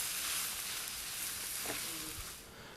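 Shrimp and rice tossed and stir-fried in a pan, a fairly quiet continuous hiss of frying with a soft knock or scrape near the end.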